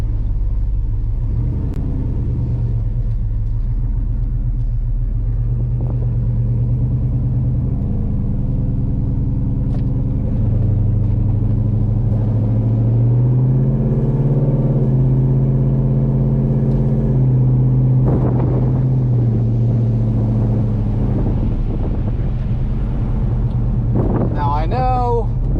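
A cammed LQ4 Chevrolet Silverado with open exhaust cutouts and bullet mufflers, a deep, loud, lumpy rumble that rises and falls as the truck revs and drives, with a voice speaking over it.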